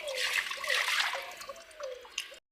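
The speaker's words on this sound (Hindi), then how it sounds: "और हम निकाल रही हूँ गर्म पानी" Hot water poured out in a home kitchen to wash ghee-greasy utensils, a steady splashing, trickling stream that is close and fairly loud, tapering off near the end with no voices.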